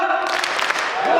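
An audience at a business kickoff event claps together on cue, a brief burst of dense, energetic applause from a large crowd with some voices mixed in.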